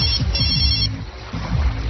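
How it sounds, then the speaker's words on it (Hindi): A mobile phone ringtone trills in repeated high electronic pulses, close and fairly loud, then cuts off partway through, with low indoor background noise underneath. "फोन आया हमारा।"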